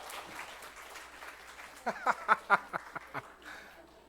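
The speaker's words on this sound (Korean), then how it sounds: "우리 다시 한번 큰 박수 부탁드리겠습니다" In a Sunday church service, a congregation claps faintly after a sung worship piece, a soft wash of applause with a few sharper, spaced claps standing out near the end.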